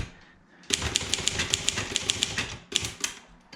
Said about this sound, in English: typing on it is quite easy, quite nice.